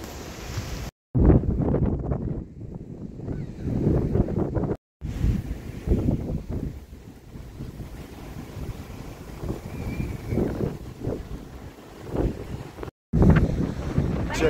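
Wind gusts across a microphone at a sunny, near-empty beach, producing loud buffeting rumble with surf noise beneath, steady and close with a few brief dropouts and no talk.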